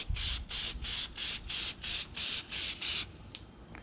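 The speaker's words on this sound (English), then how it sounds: "now we're going to spray the other side" Aerosol spray applied to a motorcycle air filter on a 2006 GSXR600, nine short loud hissing bursts in an even rhythm, then a brief final puff.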